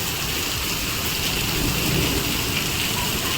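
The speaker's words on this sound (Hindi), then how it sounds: "ये देखो बारिश हो रही है" Steady, heavy rain pouring down, a dense, constant hiss that never lets up, with no voices.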